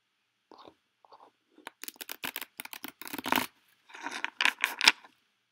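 A deck of tarot cards shuffled by hand on a table, close and moderately loud, with quick papery riffling and slapping bursts that come in short irregular clusters, ending in a sharp tap.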